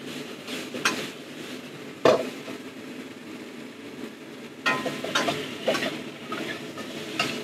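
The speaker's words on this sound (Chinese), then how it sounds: "跟住之後落蘿蔔落去炒" Radish is stir-fried in a wok over high heat for a Cantonese braised radish and beltfish dish, with a steady sizzle and scraping of a spatula against the pan, plus a few sharper metallic clinks.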